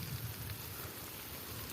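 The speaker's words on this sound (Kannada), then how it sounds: "ಮಳೆ ಬೀಳ್ತಿದೆ, ಬೇಸಿಗೆಯಲ್ಲಿ ಮಳೆ ಬೀಳ್ತಿದೆ ಅದಕ್ಕೆ." Water sprayed over lemon plants on a farm patters like steady rain, a continuous soft hiss of droplets on leaves, faint and even, heard alone without voices.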